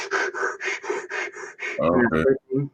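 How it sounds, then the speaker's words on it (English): A man does fast, short inhales and exhales to get fired up for bodybuilding training: about seven rapid rhythmic breaths, close and loud, followed by brief voiced grunts. "to get fired up, you do fast, short inhales and exhales"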